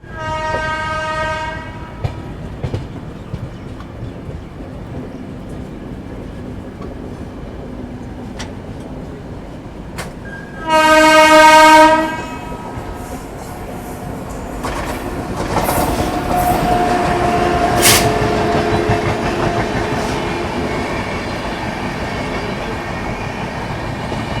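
Azimabad Express passenger train running between Patna and Ahmedabad, sounding two loud horn blasts over a steady rumbling roll, with rising rail noise and clatter in the later part.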